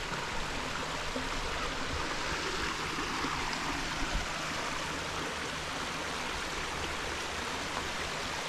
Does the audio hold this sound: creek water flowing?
yes